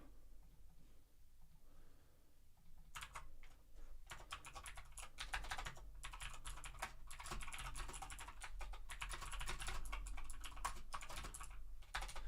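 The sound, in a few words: typing on a mechanical typewriter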